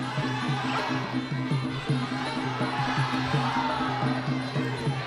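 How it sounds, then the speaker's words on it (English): Stadium crowd at Rajadamnern Stadium cheering for a Muay Thai fighter, a steady loud roar with rhythmic chanting and pulsing instrumental accompaniment throughout. "The crowd trying to get behind Liu Haiyang."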